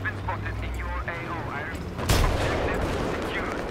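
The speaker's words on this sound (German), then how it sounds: "Ach ja, mein Magazin kann ich leer schießen." Gunfire from emptying a rifle magazine in the video game Battlefield 3, a sudden loud burst of shots followed by sustained rumbling combat noise, with someone talking in German before it.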